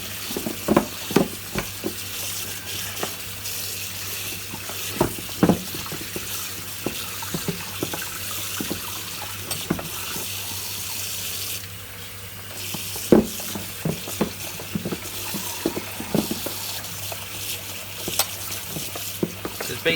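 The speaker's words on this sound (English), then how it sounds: "Let's put some water in here." Water splashes and trickles into a Hoover Junior Dirtsearcher vacuum cleaner part being washed, irregular sloshing and clattering bursts over a steady background hiss, with a brief pause midway.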